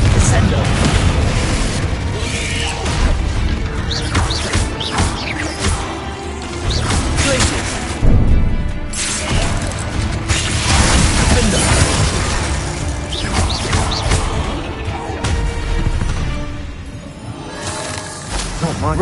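Confringo fire blast spells burst in heavy booming explosions during a Hogwarts Legacy fight, dense and continuous with crackling debris, loud and close, with voices speaking throughout.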